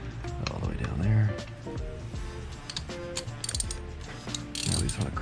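A ratchet fitted with a 5/8 spark plug socket on an extension cracks loose a car engine's spark plugs, giving close rapid mechanical clicking in bursts while someone talks over it.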